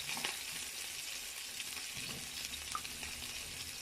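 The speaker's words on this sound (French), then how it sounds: "je fais revenir un peu le poivron. Je vais rajouter mes oignons." Bell pepper and onions fry quietly in a pan for an omelette with potatoes, giving a faint, even sizzle and an occasional soft clink of a utensil.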